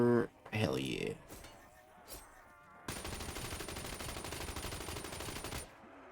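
A light machine gun fires in Black Ops 3 zombies mode: a loud, sustained burst of rapid shots lasting about three seconds. A voice talks briefly at the start.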